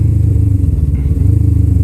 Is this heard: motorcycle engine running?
yes